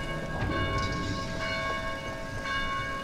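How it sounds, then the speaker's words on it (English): Bells ring in the zombie game Dead Island: Mystery Mobile, a sustained layered chime that continues at a steady level for the whole stretch, with no talking. "Can we turn off those bells?"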